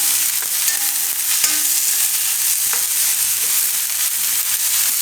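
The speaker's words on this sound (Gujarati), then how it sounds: "હવે એમાં ડુંગળી નાખી દઈશું આપણે થોડીક શાકભાજીમાં નાખીશું," Onions and vegetables frying in a pan for a sizzler sauce, a steady, loud hiss of sizzling with occasional stirring scrapes throughout.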